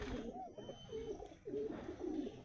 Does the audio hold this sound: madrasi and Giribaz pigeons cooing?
yes